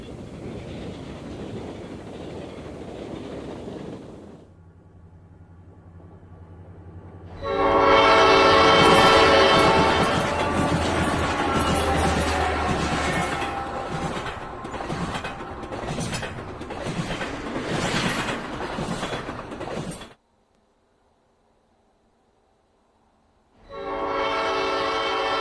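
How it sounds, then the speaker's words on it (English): Loud blasts from a Southern Pacific diesel locomotive horn ring out as the 1976 Officer Special crosses Dibble Creek in Red Bluff, over a deep engine rumble, with a brief silent gap before the horn returns. "The train crosses Dibble Creek in Red Bluff."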